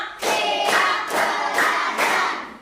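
A classroom of students claps together in an ice-breaking clap game, about five dense bursts in a steady rhythm, fairly loud and close, with no talk over them.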